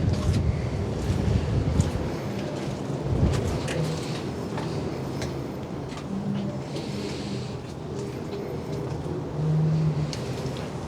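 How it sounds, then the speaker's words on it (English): Steady rushing wind noise at a castle fills the recording, with gusty surges and scattered buffeting thumps, no voices. "What a windy affair."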